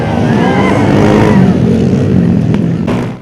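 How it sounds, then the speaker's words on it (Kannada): A motorcycle engine roars loudly and close by at a rural village fair's dirt bike race, one sustained revving pass that slowly fades as the bike moves off. "ಡರ್ಟ್ ಬೈಕ್ ರೇಸ್ಗಳು ಇದೀಗ ಗ್ರಾಮೀಣ ಭಾಗದಲ್ಲೂ ಸದ್ದು ಮಾಡುತ್ತಿವೆ"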